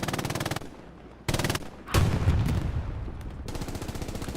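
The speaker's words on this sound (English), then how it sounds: "Panzer IV coax going off." The coaxial machine gun on a Panzer IV tank in the Hell Let Loose game fires in rapid bursts, loud and close, with short pauses between the strings of shots and a heavier blast in the middle.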